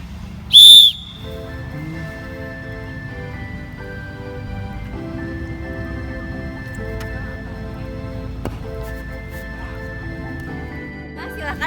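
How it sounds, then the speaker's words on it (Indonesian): A single short, shrill whistle blast starts a discus-throwing athletics class, followed by steady background noise and faint voices. "Ketika ada aba-aba peluit dari saya, silahkan mulai."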